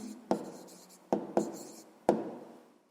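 A pen writing out a math answer on paper, with four sharp taps as strokes begin and soft scratching between them, close and quiet with no voices.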